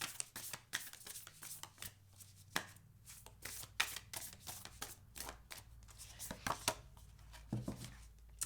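Tarot cards are shuffled up close, a quick run of crisp riffling slaps and flicks in uneven bursts with a few sharper taps.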